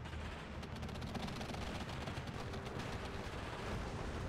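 Dense, continuous battlefield gunfire from the strategy game Steel Division 2, a steady roar of rapid shots and distant artillery-like rumble filling the whole stretch with no pauses.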